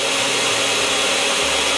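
Blender grinding ingredients for a chile filling, a loud, steady, close whirring roar lasting the whole brief moment without pause.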